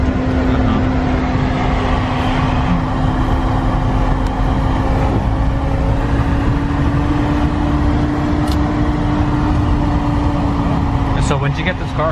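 An old Soviet car drives along with a steady, loud engine drone and road rumble that fills the whole stretch, and there are faint bits of voices and rattles on top.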